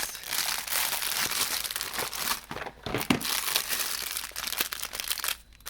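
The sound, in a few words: plastic bag crinkling being opened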